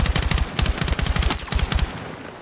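Rapid automatic gunfire from a shooter video game, loud close bursts in quick rhythmic volleys over about two seconds before tapering off, with no voices.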